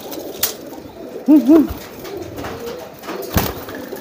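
Male racing pigeons cooing in courtship, with two or three close, throaty coos in quick succession, set among light rustling and a few soft knocks or wing sounds.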